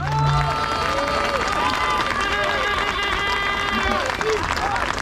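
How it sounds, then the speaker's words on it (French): A rally crowd at an anti-austerity demonstration on Place de la Bourse in Paris keeps up loud, steady noise, with voices, whistles and cheers layered over scattered clapping throughout. "Je vous prie de lui faire un tonnerre d'applaudissements."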